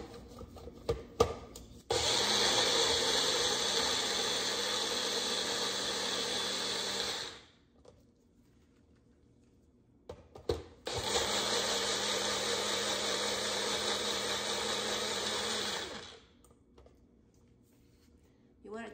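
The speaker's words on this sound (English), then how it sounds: "since I have the blender out, I'm just gonna blend it" A kitchen blender whirs loudly as it blends rice and chilies, running two long bursts of about five seconds each, separated by a quiet pause with soft handling clatter.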